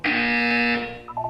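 A steady electronic buzzer from the Portal 2 video game sounds loud and alone for about a second, a sustained tonal drone with strong harmonics that cuts off, followed by a few short, softer tonal blips.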